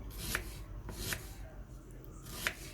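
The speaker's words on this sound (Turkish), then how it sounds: "Salata için olanı bu şekilde yarım ay şeklinde ince ince doğruyorum" A knife chops spinach root into thin half-moon slices for a salad, making a few sharp, evenly spaced cuts against a board over a quiet, soft background rustle.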